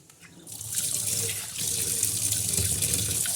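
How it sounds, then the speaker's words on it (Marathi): Water gushes steadily from a tap as fresh Bombay duck fish is washed under it, growing louder after a moment and splashing continuously, close by. "असे मस्त नळाखाली स्वच्छ करायचे"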